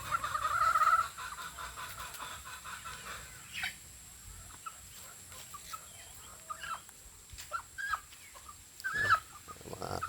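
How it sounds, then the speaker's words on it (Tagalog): Roosters sick with colds give a stretched, strained call at the start, then intermittent clucks and short rasping calls at close range, moderately loud with no talking. "Sinisipon ang mga manok."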